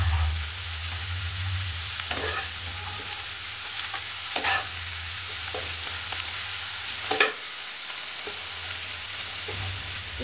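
Broccoli frying in butter and garlic in a pan, a steady close sizzle with occasional stirring scrapes and clinks, no talking.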